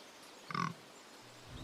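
A short, muffled grunt from fictional pig bears in an audio drama, heard once at a distance over a low, steady background hum.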